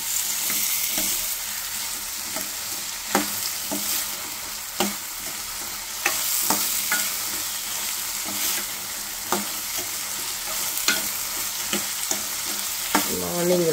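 Grated coconut is stirred and fried in a pan for a broad bean curry, giving a steady close sizzle with periodic scraping taps of the spoon against the pan.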